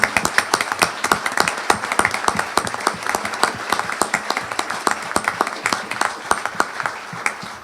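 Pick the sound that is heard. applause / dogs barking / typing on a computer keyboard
applause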